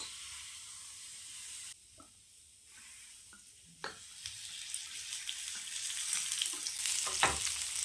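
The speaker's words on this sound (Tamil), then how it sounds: "வெங்காயம் நல்லா வதங்கட்டும்." Onions sauté in a pan for an eggplant and dried fish curry, a soft sizzle with occasional stirring scrapes, close and growing gradually louder.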